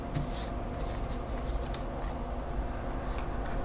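Scissors snip around the edges of a handmade butterfly wall hanging, giving a series of close, light cutting clicks in an irregular rhythm over quiet room noise.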